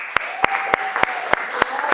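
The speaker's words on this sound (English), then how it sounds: "I need everybody to give yourself a round of applause." Audience members clapping for themselves at a school talk on raising teens: a short run of about seven sharp, evenly spaced claps, close and distinct, with a faint sustained tone beneath.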